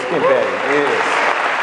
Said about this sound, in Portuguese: vamos dar uma salva de palmas, professor